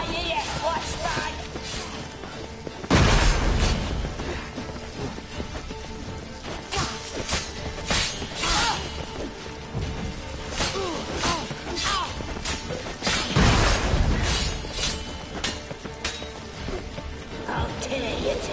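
A loud flashbang bursts twice in The Witcher 3 on Death March difficulty, sharp crashing hits standing out over busy combat clatter, swordplay and shouted voices.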